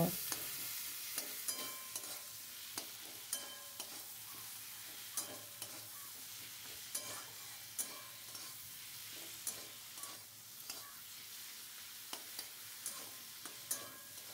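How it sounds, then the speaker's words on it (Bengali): Tomatoes being stirred and fried in a pan, a soft continuous sizzle with regular scraping clicks from the spoon, steady and moderately quiet with no talking. "এখন এইভাবেই টমেটো দিয়ে কিছুক্ষণ নাড়াচাড়া করে নিয়েছি।"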